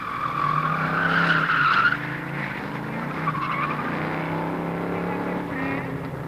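A Datsun 240Z car at an autocross event, its tires skidding and squealing through a long loud screech over engine noise, fading into a steadier drone as the car moves away.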